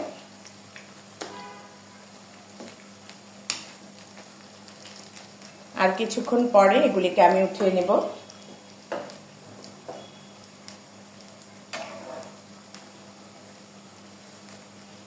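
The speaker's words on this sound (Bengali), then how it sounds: "দেখুন আমাদের বেগুনিগুলি লাল লাল করে ভাজা হয়ে যাচ্ছে।" Eggplant fritters (beguni) deep-frying in hot oil, a steady low sizzle and bubbling heard close with a louder burst of frying crackle midway, while someone talks over it.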